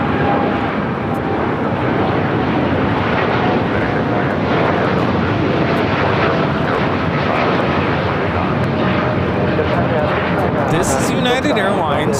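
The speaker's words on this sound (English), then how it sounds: "Flight 1402 taking off to Newark on the 787-10 Dreamliner" United Boeing 787-10 Dreamliner taking off from LAX bound for Newark, a loud, continuous broadband jet roar holding steady throughout, with someone talking over it.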